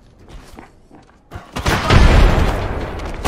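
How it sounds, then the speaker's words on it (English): A frag grenade explodes in the Apex Legends video game, a deep rumbling boom that swells after a second and a half of quieter game sounds and clanks, then holds loud to the end. "Frag grenade sent."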